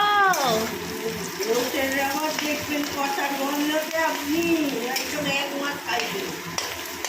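Onions fry in a pan, a soft continuous sizzle and hiss running close by beneath a voice talking throughout.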